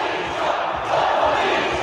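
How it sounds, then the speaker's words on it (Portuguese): An entire gymnasium crowd boos a Globo TV crew, a loud, sustained roar of many voices filling the hall without a break until it cuts off abruptly. "E teve a equipe da Globo sendo vaiada pelo ginásio inteiro."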